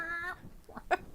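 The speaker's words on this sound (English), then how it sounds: "The chicken." A chicken in a backyard gives a short, faint cluck or two after a brief tonal call, quiet and close, with no talk.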